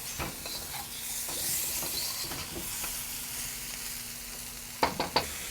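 Squash seasoned with Lawry's seasoned salt sizzles in a very hot, smoking pan, a steady close hiss with a faint hum and light scrapes as it is stirred, ending in a few sharp utensil clacks.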